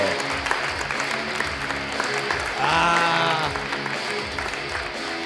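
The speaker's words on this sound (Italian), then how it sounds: "Continuate l'applauso per Chiara Picchierri, fatelo!" Sustained applause from a comedy show audience, a steady dense wash of clapping that swells briefly midway, with an MC's voice speaking over it.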